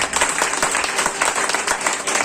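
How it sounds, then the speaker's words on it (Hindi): A church congregation claps hands together during a Hindi-language worship service, a steady, dense burst of applause from many people filling the room throughout. "हाथ उठा के ताली बजा दो।"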